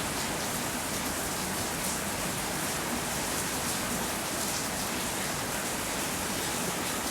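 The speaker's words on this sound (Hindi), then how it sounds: "यहाँ पे हल्की हल्की बारिश होने लग रही है।" Steady light rain falling along a rural road near Kalanaur, a constant dense hiss with no breaks, close and fairly loud, with no voices.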